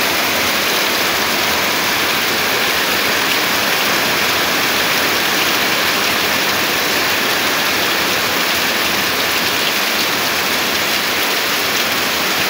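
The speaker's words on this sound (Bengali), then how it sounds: "প্রচুর বৃষ্টি।" Heavy rain pours down at night during a storm with the power out, a dense, loud, unbroken roar of water striking the surfaces nearby, with no voices.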